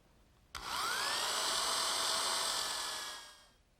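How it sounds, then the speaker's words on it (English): Power drill pre-drilling holes in the wooden saddle pieces of a handmade rocking horse: one sharp start, then a steady high whine for about two and a half seconds that fades out, close by with no talk. "pre-drill some holes"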